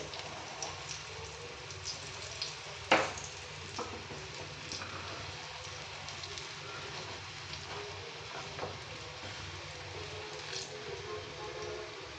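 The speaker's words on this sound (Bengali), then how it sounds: "এটা ভালো করে এবারে ঘুরিয়ে ঘুরিয়ে ভেজে নিতে হবে" Soft, steady crackling of pointed gourd frying in oil, faint and even, with a few light pops and clicks.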